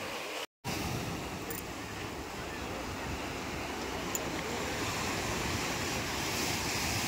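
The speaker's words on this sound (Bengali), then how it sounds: "সুন্দর সুন্দর কত ঢেউ আসছে, আর ঢেউ আস্তে সরে সরে আসছে" Sea waves roll in at Digha beach, a continuous loud wash of surf mixed with wind buffeting close to the microphone, with a brief dropout near the start.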